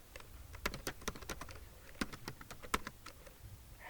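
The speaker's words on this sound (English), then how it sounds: "here I'm going to type something" Quiet, close computer keyboard typing with irregular bursts of individual key clicks, some louder presses standing out, no voices.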